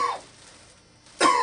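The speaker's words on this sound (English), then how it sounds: "could you give me 3 quick, strong coughs?" A patient during an abdominal clinical examination gives two forceful coughs, one at the start and one at the end, separated by a short quiet pause, close and loud.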